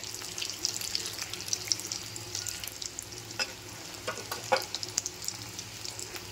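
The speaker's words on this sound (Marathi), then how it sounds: "चला छान डीप फ्राय करून घेऊयात" Crisp paneer threads deep fry in hot oil, giving a busy, bubbling sizzle with scattered crackles and a few louder pops, close and without speech.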